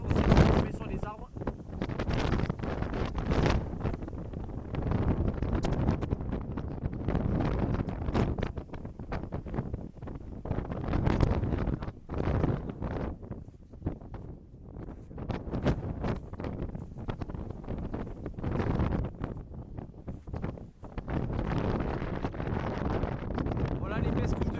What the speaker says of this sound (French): Les rafales atteignent actuellement entre 130 et 140 km/h.